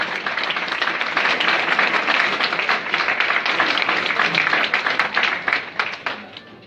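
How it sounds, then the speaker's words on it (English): Audience applause at a football awards event, a dense, steady round of clapping from a crowd that carries on for several seconds before thinning out near the end. "a round of applause for all of them, please"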